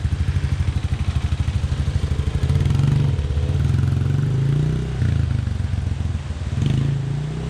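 A Bashan Brozz 250 dual sport motorcycle rides off road on a forest trail, its engine putting out a steady, close, pulsing drone that rises in pitch around mid-ride and falls back, with faint clatter and no voices.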